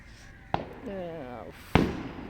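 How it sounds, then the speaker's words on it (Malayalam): Fireworks burst at a church or temple festival across the river: two sharp, distant bangs about a second apart, with a faint tonal sound between them. "അപ്പുറത്തെ പള്ളിയിലോ അമ്പലത്തിലാണോ അറിയില്ല വെടിക്കെട്ടാണ് ഈ കാണുന്നത്"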